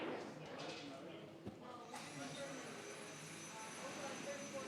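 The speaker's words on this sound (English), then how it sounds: "No, it's they're vacuuming the billiard table." A vacuum cleaner runs over a billiard table at a pool tournament, giving off a continuous airy whine with a brief thump partway through. Voices talk over the steady drone.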